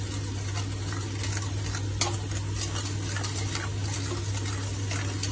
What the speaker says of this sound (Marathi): आता हे वाटण छान परतून घ्यायचंय।